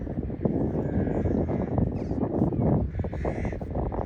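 Many crows cawing at once, overlapping harsh calls from a large flock landed in a grass field, fairly near, with a rough windy background.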